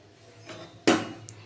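A covered dish of hilsa fish is set down into a pot of cooking rice: a soft scrape, then one sharp metallic clunk of metal on metal, followed by a small tap.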